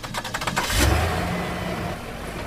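An old car left abandoned for years starts up with rapid cranking pulses, then catches and runs with a loud, steady, rumbling engine note close by.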